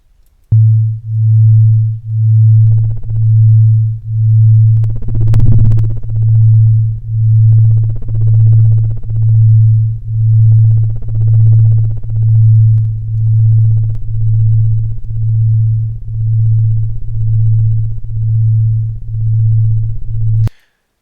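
Steady pure sine tones hum continuously with a slow pulsing beat, loud and alone, with faint softer tones drifting in and out.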